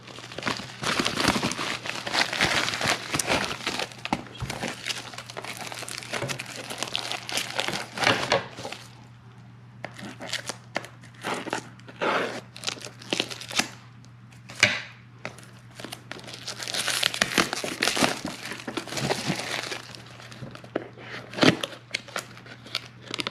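Plastic parts bag for a broken Club Car golf cart, shipped from California, crinkling and rustling in bursts as it is torn and pulled open, loud and close, with short pauses and a steady low hum underneath.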